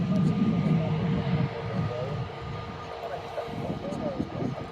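Airliner G-SUNF departing Manchester Airport for Heraklion, a steady, loud low jet roar that eases slightly partway through, with a voice heard over it.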